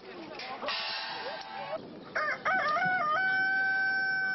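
A rooster crows loudly and nearby in a drawn-out, warbling call with rising and falling notes, preceded by shorter clucks and rustling background noise.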